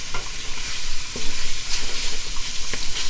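Food browning in olive oil in a pan for stuffed peppers, a steady close sizzle and frying crackle broken by a few scraping stirs.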